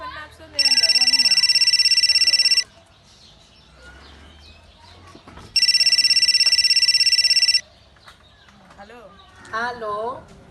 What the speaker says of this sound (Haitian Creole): Téléphone n'a sonné en bas